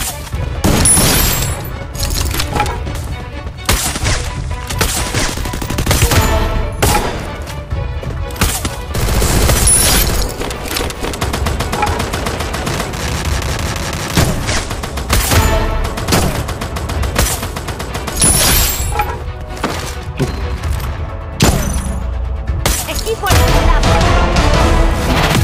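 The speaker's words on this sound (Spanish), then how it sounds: "De esta manera, disparas y cambias el arma." Rapid bursts of gunfire in the Free Fire mobile shooter game, shots crackling in dense clusters with brief pauses as weapons are switched, loud and continuous against a busy game soundscape.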